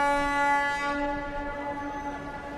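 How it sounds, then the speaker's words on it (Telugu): A train comes to a halt, giving off a sustained, steady tonal whine like a horn or brake squeal. It is loud and close at first, then eases slightly over a rumbling background, with no voices. "ట్రైన్ ఆగిపోయింది"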